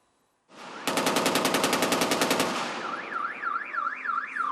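A rapid burst of machine gun fire, loud and close, rattles off about twenty evenly spaced shots before giving way to a wavering siren-like tone.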